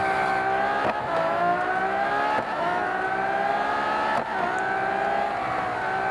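A Ferrari FXX K Evo rated at 1,050 horsepower races in Real Racing 3, its engine holding a loud, steady high-pitched howl that dips briefly at several gear shifts.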